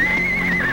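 A short, high-pitched horse whinny, close and clear, wavering slightly in pitch for under a second.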